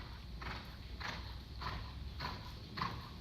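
A horse canters through a riding lesson, giving five steady, evenly spaced hoofbeats that sound muffled and moderately close against a soft, constant background, with no voices.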